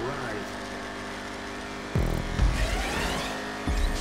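A car engine with turbo boost in GTA 5 Online, cunning stunts special vehicle, holds a steady harmonic drone, then surges louder with a whooshing boost burst and another kick near the end; someone talks over it.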